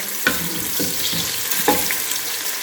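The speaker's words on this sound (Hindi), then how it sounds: "अब हम इसमें प्याज डालेंगे और प्याज को फ्राई करेंगे।" Onions fry in hot cooking oil for Lahori chana masala, a dense continuous sizzle up close. Several clicks and scrapes of a stirring spoon cut through it, and nobody speaks.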